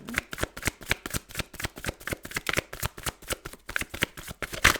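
Tarot cards are shuffled by hand in a fast, even rhythm of crisp riffling slaps, close and clear, with no voices.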